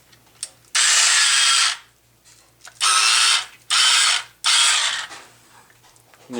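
SKINZIT fish skinning machine drawing a fillet through its rollers: four loud, close bursts of rough mechanical whirring, each lasting about a second and separated by short quiet pauses with faint low hum.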